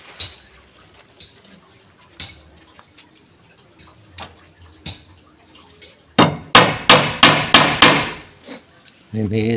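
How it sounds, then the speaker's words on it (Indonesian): A hammer drives nails into a wooden minimalist cabinet, with about six loud, evenly spaced blows in quick succession after some scattered lighter taps, all over a constant high insect chirring. "Kemudian saya kasih paku."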